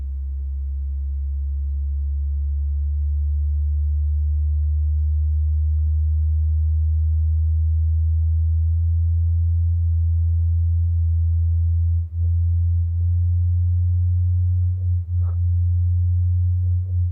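A long, low, steady beep tone from an ear hearing test hums without a break, with a few faint soft clicks near the end.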